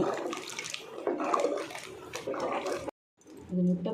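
Water pours and splashes into a pan of ground masala with tomato, coconut and fennel while cooking mutton kaima curry, a close running gush heard under conversation before a brief silence.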